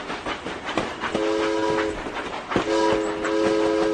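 Train passing with steady rolling rumble and clattering wheels, plus two sustained horn blasts, a train sound effect played during a live talk show.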